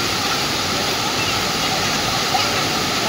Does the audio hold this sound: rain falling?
yes